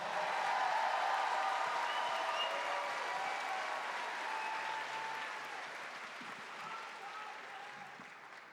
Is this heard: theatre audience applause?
yes